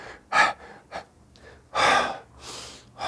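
Audible breaths demonstrated during a meditation lesson: several sharp inhales and longer exhales, close and alone, alternating in an uneven rhythm.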